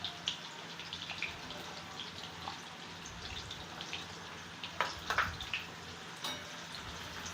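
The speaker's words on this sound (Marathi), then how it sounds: "हे सुद्धा चांगलं तळून घ्यायचं रताळा." Sweet potato pieces fry in oil for undhiyu, making a soft, steady sizzle with scattered faint pops and crackles, quiet and close.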